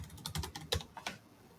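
Quick, faint clicking keystrokes on a computer keyboard as a password is typed, about eight close taps in an irregular burst.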